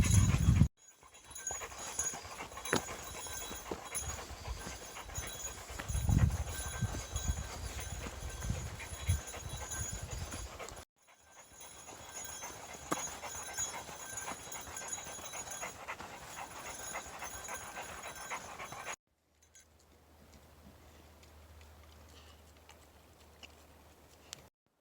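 A hiking dog pants steadily and quickly on the Tahoe Rim Trail, its footsteps shuffling along the path in several continuous stretches, fairly close and with no voices.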